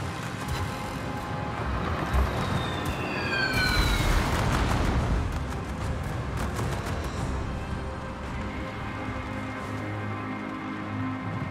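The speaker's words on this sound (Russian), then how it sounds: "Пожарная тревога." A fire alarm siren wails in a shooter video game, swelling loudly over a steady din of gunfire and rumbling battle noise before settling back into the background clatter.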